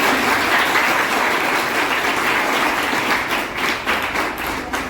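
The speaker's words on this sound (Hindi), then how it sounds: "तो एक बार जोरदार तालियों से उनका स्वागत कीजिए।" Enthusiastic, loud applause from a room of students at a gurukul welcoming visiting speakers, a continuous dense clapping that thins toward the end.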